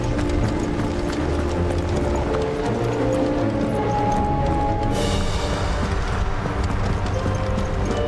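Hooves of Sleipnir, a horse in the video game Final Fantasy XVI, clip-clopping in a steady rhythm under a continuous layer of game music throughout.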